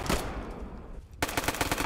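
Machine-gun fire in the Roblox game Operation Overlord on Normandy Beach: rapid bursts of shots, a short pause, then a denser, louder rattling volley, with no voices.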